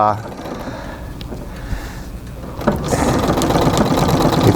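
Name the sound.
treadle sewing machine quilting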